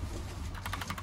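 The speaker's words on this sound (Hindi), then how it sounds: "इनसे क्लिकी साउंड आ रहा है।" Clicky mechanical keyboard switches with orange accents, part of a PC build, pressed in a quick run of sharp, close key clicks over a low hum.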